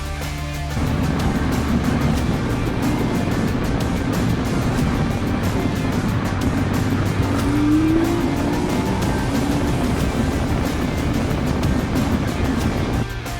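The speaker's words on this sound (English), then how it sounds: "The engine revs gaining speed and then you have to brake, but it's a piece of cake." A Porsche Boxster 986 with a 2.7-litre engine drives along steadily, its engine note loud, close and continuous throughout, with a brief rising rev swell midway.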